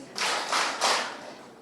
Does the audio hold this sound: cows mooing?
no